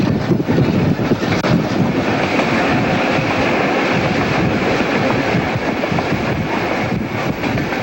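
A Newfoundland Railway train rolls along the tracks after a sticky brake stop, a loud, steady rumble of wheels and wagons with continuous rattling and wind-like rush throughout.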